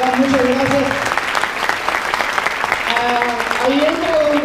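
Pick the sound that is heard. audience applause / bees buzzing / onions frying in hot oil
audience applause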